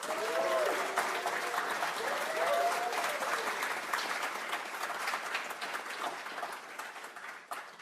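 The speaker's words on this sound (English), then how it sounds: "A round of applause, Aurora Kagawa-Viviani." An audience at a keynote speech gives sustained applause, a dense roar of clapping that stays loud and even before slowly thinning at the end, with a voice briefly heard early on.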